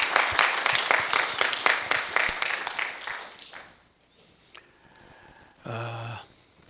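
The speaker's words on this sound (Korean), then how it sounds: "박수로 영광을 드리겠습니다" A church congregation claps through a Sunday worship service, dense and lively for about three seconds before fading to a hushed room, followed by a short tonal hum.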